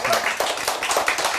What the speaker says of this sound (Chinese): 全场要掌声，热烈掌声一下